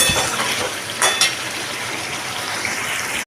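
Spiced taro and potato frying in oil in a pan, giving a continuous close sizzle with a few scraping stirs and faint utensil clinks, with no voices.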